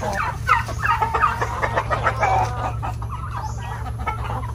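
Native chickens cluck steadily around a laying area, several birds calling in overlapping, close clucks over a low constant hum, with no talk.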